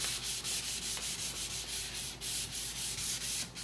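A hand-held Surf Prep sanding pad rubs back and forth over painted furniture in a quick, even rhythm of raspy strokes, close and steady, with no talking.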